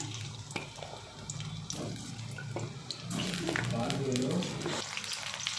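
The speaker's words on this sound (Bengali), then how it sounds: "মাংসের জন্য আলুটা ভেজে নিব।" Potatoes with turmeric sizzle and crackle in hot oil nearby, the frying hiss swelling partway through with a few clinks and scrapes.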